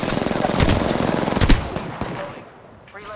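Rapid bursts of automatic gunfire in a shooter video game, dense crackling shots for about two seconds, then fading into quieter scattered sounds.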